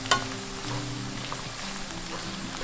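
Rice sizzling in very hot oil in a wok while it is stirred for a vegetarian Taiwanese zhajiang noodle sauce, a soft steady crackle with faint scraping and a small clack near the start.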